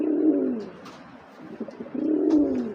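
Racing Giribaz pigeons coo nearby in two clear, low, rolling phrases separated by a short pause, with faint rustling between them and no talking.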